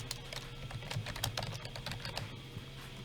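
Typing on a computer keyboard, a quick, uneven run of close, crisp key clicks over a faint steady hum.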